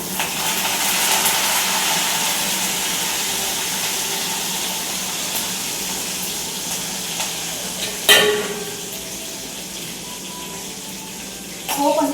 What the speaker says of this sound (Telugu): పోపు అంతా బాగా వేగేంత వరకు కొంచెంసేపు